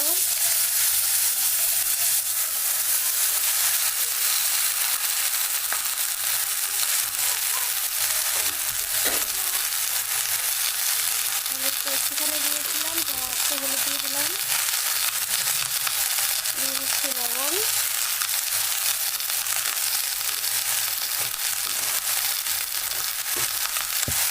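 Vegetables and turmeric frying in a hot pan make a loud, continuous hiss and sizzle for the whole stretch, with occasional faint scraping from stirring and a few brief squeaks in the background.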